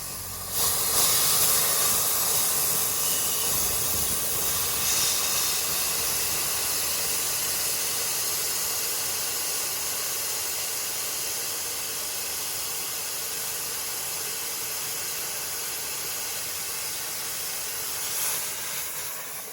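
Air rushes out of an off-road tyre through a Powertank Monster deflation valve, a loud, steady hiss that runs without a break for about twenty seconds and eases off slightly toward the end.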